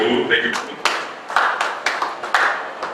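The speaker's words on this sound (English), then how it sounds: "Please, a round of applause, please." Applause at an annual general meeting and inauguration: sparse, separate claps from a small group in a hall, a handful of sharp hand claps spaced across a few seconds, with speech over them.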